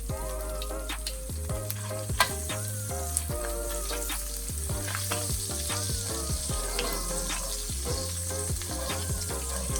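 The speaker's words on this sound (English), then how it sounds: "next goes in the butter. And we're gonna get that melted down." Butter melts and sizzles in a pan just used for searing ribeye steak, a continuous close frying hiss with quick crackles and occasional clicks over a low steady hum.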